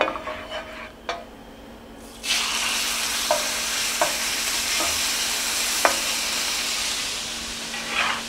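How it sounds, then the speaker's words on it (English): Butter and olive oil heating in a frying pan, with a few utensil clicks at first, then a sudden sustained hissing sizzle that carries on steadily, broken by occasional light taps as the fat is mixed, close up with no talking. "Heat up our butter a little bit. Add a little bit of olive oil. Mix that together nicely."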